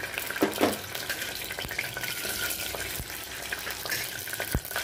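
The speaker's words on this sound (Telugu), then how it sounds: "నూనె వేడెక్కింది, తాలింపు వేసేస్తున్నాను." Tempering spices crackle and sizzle in hot oil for a palak curry, a constant close frying hiss with a few sharp pops and light clinks, no speech.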